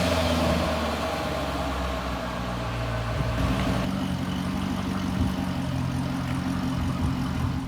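A Corvette with a naturally aspirated LS3 V8, freshly rebuilt after a wreck, runs in a parking area, giving a steady, deep, close rumble that holds even throughout with a slight shift in tone partway.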